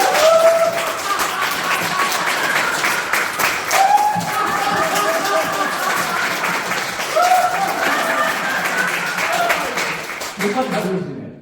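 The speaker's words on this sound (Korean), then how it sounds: "자, 박수 치세요." Lecture audience at a laughter-therapy talk applauding loudly and steadily for about eleven seconds, with brief voices and cheers rising over the dense clapping.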